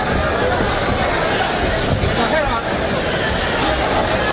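A boxing arena crowd reacting during a Pacquiao versus Lucero fight, a dense, loud, continuous roar of voices and babble that holds steady throughout without a break.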